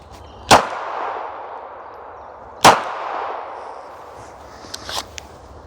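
Two sharp test shots from a 9mm Glock pistol, spaced about two seconds apart, each a loud crack with a short ringing tail, followed by a few faint clicks and rattles.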